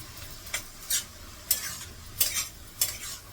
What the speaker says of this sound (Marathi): चांगलं असं मिक्स करून घ्यायचं